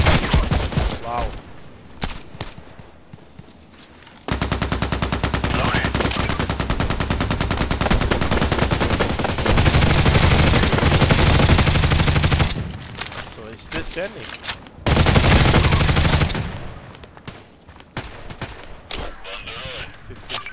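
HK G36C rifle fire in the online shooter Contract Wars, loud rapid automatic bursts and repeated volleys with short pauses between them, sustained across the whole stretch with no talking.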